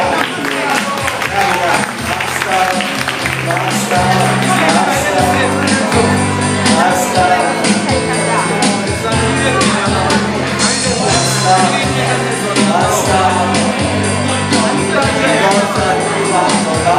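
Loud, sustained audience applause with cheering and shouts filling the room, steady clapping throughout alongside music with a strong beat.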